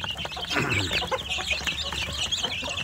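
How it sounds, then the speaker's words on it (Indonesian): Newly hatched native village chicks peep and chirp continuously in a cardboard brooding box, a dense, close chorus of high cheeping with soft clucking underneath and no talk. "Ini saya punya anak ayam kampung di dalam kardus pembesaran yang kemarin baru menetas"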